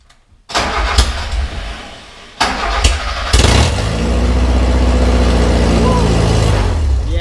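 A Mazda B2000 pickup with newly installed headers and no exhaust cranks over, catches, and settles into a loud, raw, unmuffled idle, the engine droning steadily up close.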